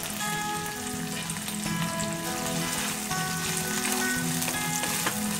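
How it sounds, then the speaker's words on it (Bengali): Tomatoes frying in oil with ginger garlic paste for a home-cooked biryani base, a constant soft crackling sizzle like light rain on a surface, with no voices. "টমেটো গুলো দিয়ে দিচ্ছি।"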